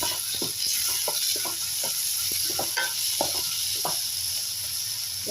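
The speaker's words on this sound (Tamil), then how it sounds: "வெங்காயம், தக்காளி, பூண்டெல்லாம் எண்ணெயிலே இந்த அளவுக்கு வதங்கினாங்க" Onions, tomatoes and garlic sautéing in hot oil, a steady soft sizzle with repeated light scrapes of stirring.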